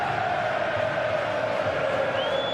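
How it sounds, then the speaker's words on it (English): Big stadium crowd roaring and cheering during a football video game match, a dense, sustained wash of noise that holds steady throughout. "The crowd certainly think so. Just listen to them."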